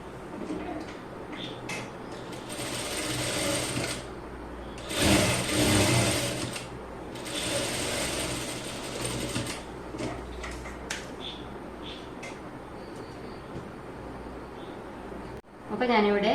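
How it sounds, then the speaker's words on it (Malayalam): A sewing machine stitches the seat length of children's pants in a few bursts of rapid, steady whirring, the clearest around the middle. A voice talks at times between the runs. "ഇതേപോലെ തന്നെ ഈ സൈഡിലെ സീറ്റ് ലെങ്ത്തും ഒന്ന് സ്റ്റിച്ച് ചെയ്തെടുക്കാം."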